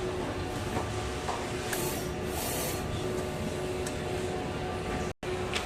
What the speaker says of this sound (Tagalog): Punasan ng wiper pagkatapos mag head clean. Next naman ay nozzle check.